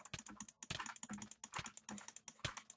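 Rapid, close clicking and tapping from a computer mouse and keyboard during Minecraft play, quiet but crisp, in irregular quick bursts with no voices.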